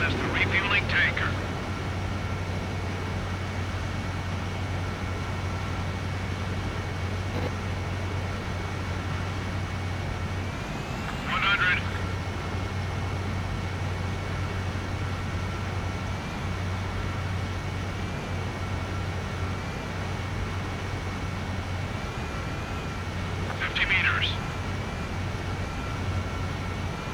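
In the video game Ace Combat 7, a fighter jet approaches an aerial refueling tanker with a constant engine drone, while radio voices talk over it and brief bursts of sound flare up now and then.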